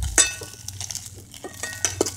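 Hot wings are turned in a pan on a small stove in a parked vehicle, giving scattered metal clinks and scrapes of a utensil over a low steady hum.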